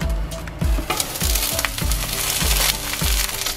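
Pumpkin cakes pan-frying under a lid, with a continuous close sizzle broken by repeated knocking or scraping sounds at a regular rhythm, and no voices.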